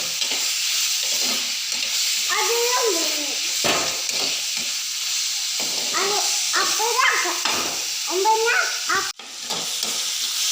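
Tomato, green chili, curry leaves, crushed garlic, ginger and fennel sautéed in a pan for a fish curry, with a steady soft sizzle and hiss while indistinct voices murmur in the background.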